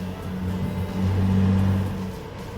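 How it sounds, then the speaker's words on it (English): A truck engine runs steadily while driving, a low droning rumble that swells slightly midway as the engine works harder, continuous and close with no voices. "I'm hoping you can hear me above the engine"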